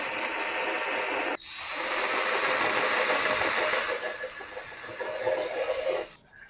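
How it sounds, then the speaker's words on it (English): Sanding by hand on a de-rusted motorcycle exhaust pipe from a Suzuki GSXR under restoration, a steady broadband rasping that runs close and continuous, briefly stopping and then resuming with a slight falloff near the end. "now we try to sand and smoothen it"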